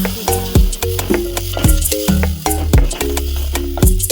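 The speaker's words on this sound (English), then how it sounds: "Put on our coriander in the mix. Then put a bit of salt for taste. And stir." Coriander and salt are stirred in a frying pan with regular scraping strokes and a light sizzle, under steady, stepped musical tones.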